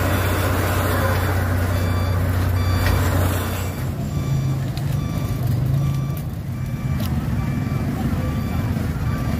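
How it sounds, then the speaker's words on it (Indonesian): Heavy truck engines rumble steadily while a reversing alarm beeps repeatedly over the top, loud and continuous throughout, as two tow trucks slowly pull a dump truck up during a recovery at Rawa Bengis, Balam KM 38. "dam truknya sudah naik perlahan-lahan ditarik sama dua derek"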